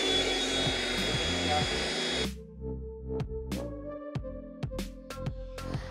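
A Philips SpeedPro Aqua cordless stick vacuum whirs steadily while cleaning a sofa seat, then cuts off abruptly, leaving quieter clicks and thumps of handling afterward.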